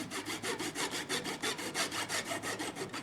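A Zona fine-tooth saw cuts wood in a Zona miter box, giving close, even back-and-forth rasping strokes in a steady rhythm, about four strokes per second, with no voices.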